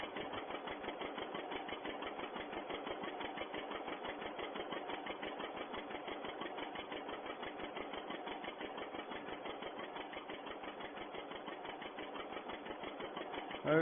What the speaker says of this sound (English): Hopefully this tractor can make it up the hill.